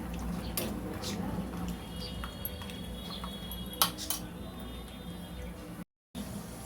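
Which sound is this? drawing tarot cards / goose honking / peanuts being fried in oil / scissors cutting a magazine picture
peanuts being fried in oil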